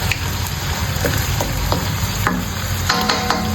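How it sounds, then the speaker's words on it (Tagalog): Pork pieces frying and browning in oil for pork menudo, a continuous loud sizzle with scattered crackles and occasional scrapes of stirring, close up. "So magmamantika pa siya for another mantika para mag-brown din yung pork natin at mas lumambot siya."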